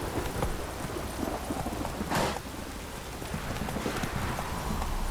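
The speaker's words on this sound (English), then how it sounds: "This downpour's a bastard, it is." Heavy rain in The Witcher 3: Wild Hunt video game roars steadily throughout, a dense hiss of rain with a brief louder burst in the middle and faint thuds underneath.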